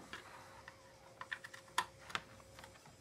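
Keys clatter on a computer keyboard hooked up to a WD network TV media player, a sparse run of close, quiet clicks and taps with uneven gaps and a few sharper strikes.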